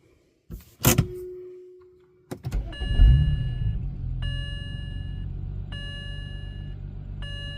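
A 2007 BMW 335xi engine with its check engine light on cranks and catches, then settles into a steady idle, with a chime ringing at regular intervals over the running motor.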